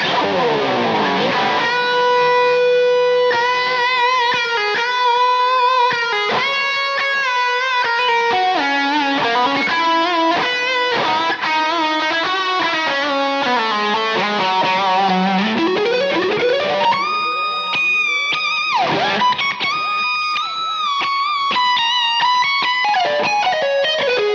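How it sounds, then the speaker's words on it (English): A heavily distorted Mayones electric guitar plays a fast, melodic solo with sustained bent notes, loud and continuous throughout with no talking. "the main tone is a really heavy, kind of chewy distortion on the preset"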